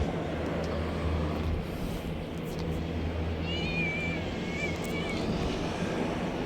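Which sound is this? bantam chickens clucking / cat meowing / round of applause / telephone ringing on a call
cat meowing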